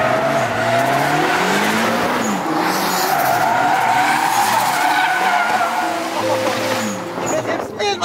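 Tires skid and squeal loudly as a car drifts with its handbrake left on, a long continuous screech with engine roar that fades near the end.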